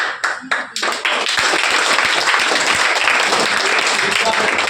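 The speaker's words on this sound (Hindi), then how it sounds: "जोरदार तालियां आपके लिए" An audience at a student toppers' welcome event gives a hearty round of applause, opening with a few separate claps before swelling into loud, dense, sustained clapping.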